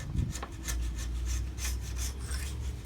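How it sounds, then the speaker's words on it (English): Paint is being stripped from a metal column with steady rasping and scraping strokes, a rhythmic rubbing repeated several times at moderate loudness, with no voices. "He's stripping the paint now."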